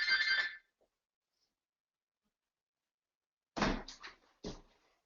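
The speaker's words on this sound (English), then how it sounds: "Excuse me, that's my phone." A phone rings in short bright electronic trills, one burst at the start, then a pause, then several quicker chirps, fairly close and with no talking.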